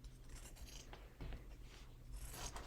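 Scissors snipping through fabric for circle skirt pieces, a steady close scrape of blades against cloth over a noisy background, with no voices.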